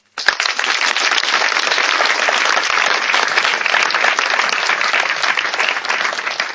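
A church congregation applauding in praise of Jesus Christ, a sudden burst of dense, loud clapping that holds steady for several seconds without letting up.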